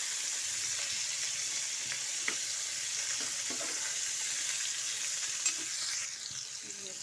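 Sweet pumpkin bhaji fries in a pan with a little salt and turmeric, making a soft, even, continuous sizzle with faint occasional stirring taps.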